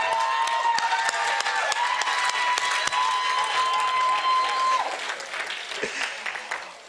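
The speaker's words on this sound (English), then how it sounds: "Can we give you another round of applause?" Sustained applause from a conference summit audience fills the hall, dense and steady for several seconds before thinning out toward the end, with a tonal sound running underneath.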